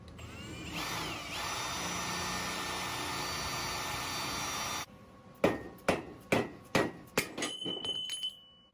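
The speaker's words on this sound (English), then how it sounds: "chisel these off and make the hole wide enough for a whole nut to fit in there" Metal plates are chiseled off a Nissan Z31 tube front end, with a long steady tool whine followed by a series of sharp, loud metallic strikes in an uneven rhythm, close by.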